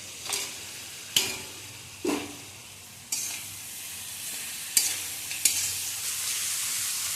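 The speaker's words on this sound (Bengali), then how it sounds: "মশলার সঙ্গে মাছের মাথাটাকে ভালো করে মিশিয়ে নিয়ে" A fish head is stirred into oil-released spiced masala for a lentil dal, with a spatula scraping and clattering in the pan in several separate strokes over a steady soft sizzle, no voices.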